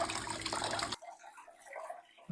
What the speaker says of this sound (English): This bucket is overflowing properly, so we got just constant clean water going back in.